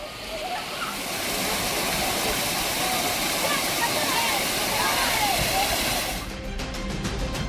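Kumbakkarai waterfall roars with a dense, steady rush of falling water while tourists bathe, the torrent loud and continuous before dropping away near the end.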